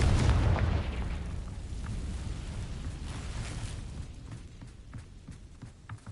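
A Confringo blasting spell explodes in Hogwarts Legacy on PS5, a loud, deep boom that opens the clip, then a rumbling decay. Smaller pops and crackles scatter through the tail.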